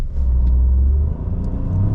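A Lynk & Co 01 accelerating with a slow transmission upshift, heard as a steady close low engine and road rumble that dips briefly mid-pull and then resumes, with no talking.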